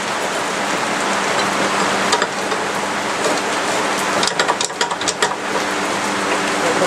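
Steady rain falls outdoors in a loud, dense hiss, with scattered sharper drips and patters, no voices.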